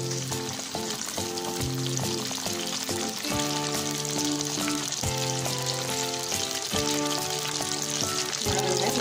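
Small onions sautéing in a pan for a mixed chutney give a steady, continuous sizzle and crackle throughout, close and fairly loud, with a tonal hum running underneath.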